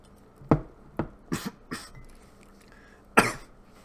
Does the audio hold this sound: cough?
yes